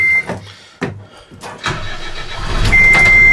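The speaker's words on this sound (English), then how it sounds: "turn the key on and we'll start it up" A 2013 CASE 580N backhoe engine cranked with the key: a few short starter bursts, then the diesel catches and settles into a loud, steady idle close by.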